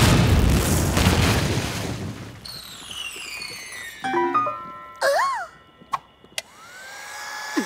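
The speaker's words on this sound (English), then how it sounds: "He who reads this fortune shall explode." A cartoon explosion erupts with a loud booming burst and rushing noise, then gives way to falling whistles, boings and short zany sound effects.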